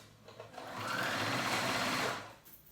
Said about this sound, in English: I'm going to do it with my sewing machine.